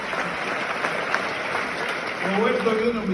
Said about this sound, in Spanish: una ovación de pie en Montreal para el maestro Chucho